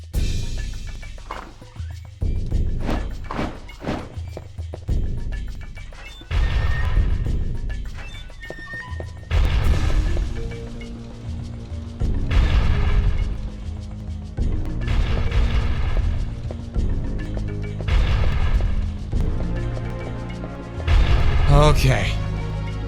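Explosions in the video game Castlevania 64, a series of loud booming bursts with rumbling tails repeating every few seconds, mixed with game music.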